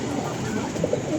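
Pigeons on a rooftop loft, a steady murmur of soft cooing close by with faint rustle, no talk.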